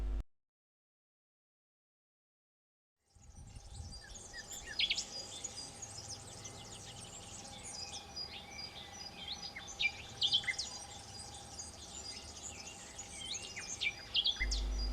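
Outdoors in Spain, a nightingale sings above the listener in quick varied phrases of chirps and trills, fairly faint over steady insect buzzing, after about three seconds of silence.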